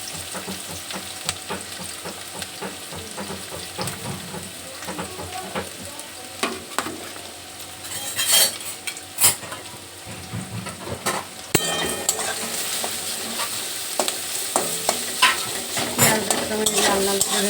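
Onions fry in a pan until reddish-brown, with a continuous close sizzle broken by scraping and clinking stirring strokes that grow busier toward the end, and no talk.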